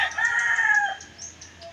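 A rooster crows loudly and close by in one drawn-out call, with softer bird sounds trailing after it.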